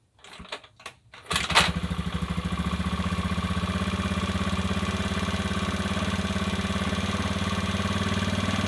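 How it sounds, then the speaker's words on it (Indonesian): A worn motorcycle engine due for an overhaul, with white smoke from the exhaust and seeping oil, is started after a few faint clicks and then settles into a steady, close, loud idle with an even rhythmic putter. "kita coba tes hidup ya guys"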